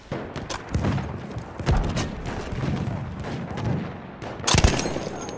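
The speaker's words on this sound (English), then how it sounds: "Da! Feindliches Maschinengewehr!" Enemy machine gun fire in the World War I shooter Battlefield 1 rattles in rapid bursts amid thumping impacts, moderately close and steady through a noisy battle.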